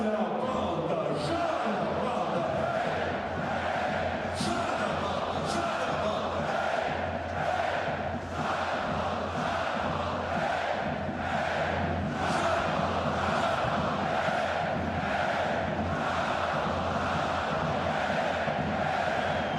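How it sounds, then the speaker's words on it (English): Home crowd at a Zalgiris Kaunas Euroleague basketball game cheering and chanting in unison, a dense, loud, sustained roar with rhythmic pulses from pogoing fans, a commentator's voice heard over it. "the home crowd pogoing in unison"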